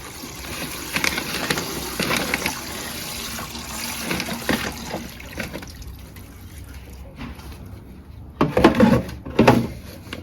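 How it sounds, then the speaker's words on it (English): Water pours and splashes into a container grow bag of potatoes set in soil, a steady rushing flow with irregular surges and a louder gush near the end. "We are going to add some more water."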